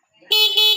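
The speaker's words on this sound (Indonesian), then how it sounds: "Klakson," A Honda Scoopy ESP scooter from 2017-2020, fitted with a Vixion handlebar switch, sounds its horn in one loud, steady electric honk that holds for about half a second with a slight dip midway.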